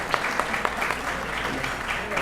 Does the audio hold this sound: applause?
yes